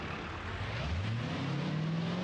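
Monster truck engine in BeamNG.Drive revving up steadily, a deep droning rumble whose pitch climbs smoothly under a broad roar, continuous and close.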